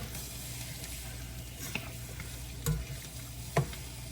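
Jamaican akee and saltfish frying with peppers in a pan, a steady sizzle with occasional sharp clicks of a utensil stirring, close and unaccompanied by talk.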